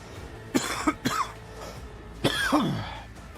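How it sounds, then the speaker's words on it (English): A person with bronchitis coughs in a few harsh, close bursts, then gives a longer rasping cough with throat clearing, over quiet background. "Sorry, I got bronchitis. I'll try to cough away from the mic."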